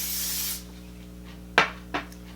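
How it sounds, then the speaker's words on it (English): A can of flexible-hold hairspray gives a half-second hiss up close, followed by two quick short puffs after a pause. "just take any old hairspray"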